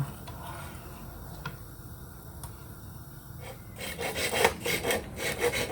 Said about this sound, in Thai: เลื่อยบังขลามจ้ะ เลื่อยบังขลาม